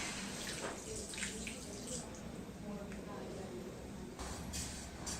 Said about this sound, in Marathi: एक वाटी मी इथे पाणी घेतलंय ते आपण यामध्ये घालून घेऊ